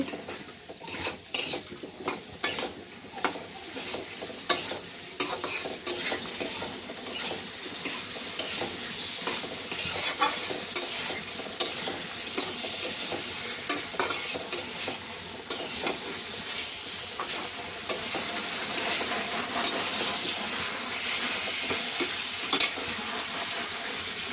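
Food being sautéed with turmeric powder and salt in a pan on a home kitchen stove, with a steady sizzle under repeated scraping and clinking of a utensil against the pan, fairly close, running continuously without talk.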